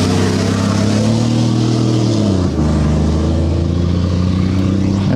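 A yellow KAMAZ rally truck rolls up to a Dakar 2020 special stage start, its heavy diesel engine droning loudly and steadily, the pitch dropping briefly midway and then settling again.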